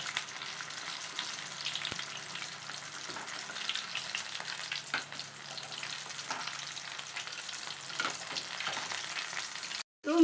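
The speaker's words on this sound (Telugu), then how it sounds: "చికెన్ పీసెస్ని ఇందులో వేసుకొని కాల్చుకోవాలి" Chicken pieces fry in a hot pan, giving a steady, even sizzle with faint crackles throughout, no talk, and a short cut near the end.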